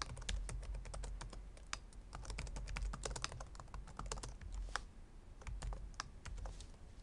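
Steady, quiet typing on a computer keyboard, dense irregular keystrokes throughout with no talking.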